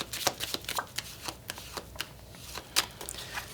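Tarot cards are shuffled by hand, a quiet run of crisp riffling snaps and soft slaps in an uneven rhythm, close up with no talking.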